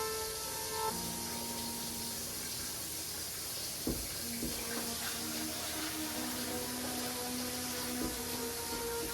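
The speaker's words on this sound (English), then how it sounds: "we'll pour this under cold water." Cold tap water pours over a hot pot of boiled potatoes being drained in a kitchen sink, a steady close rush of running water with a few clanks of the pot, and no talk.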